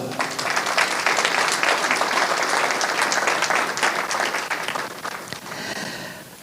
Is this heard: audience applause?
yes